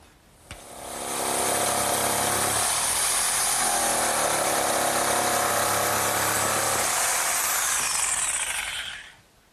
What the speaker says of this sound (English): And now I'll just cut both boards at once.